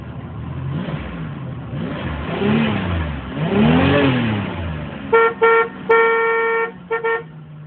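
A 1993 Oldsmobile Cutlass Ciera S engine revs up and down in a few swelling pushes, followed by several short car horn honks and one longer blast, loud and close with no voices.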